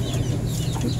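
Chickens clucking close by in a brief, busy burst of overlapping low clucks.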